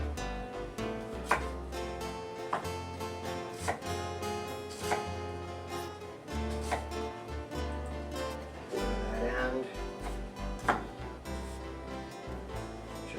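Red onions being sliced with a knife on a cutting board while preparing a pork loin chop and mushroom dish, with a series of sharp, close knife taps at an irregular rhythm over steady background sound.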